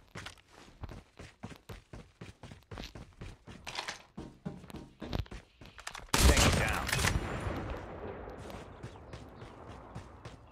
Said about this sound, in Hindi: भाई गन की साउंड कितनी बढ़िया आती है इसमें